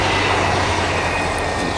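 A train rumbles past on a railway track close by, a steady broad roar that fills the whole moment with no voices over it.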